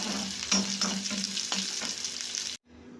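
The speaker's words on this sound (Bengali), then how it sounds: "পেঁয়াজগুলোকেও বেশ একটু ভালো করে ভেজে নেব।" Onions fry in a well-used kadai with a close, steady sizzle and several scraping stirs before the sound cuts off abruptly into near silence.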